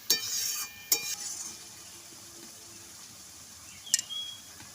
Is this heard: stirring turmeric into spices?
yes